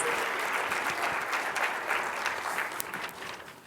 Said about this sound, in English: Give them one more grand round of applause for hosting a really great conference.